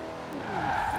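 A car drifting in the racing game Forza Horizon 4 gives a brief roar of engine, with a rising tire squeal building over a single second.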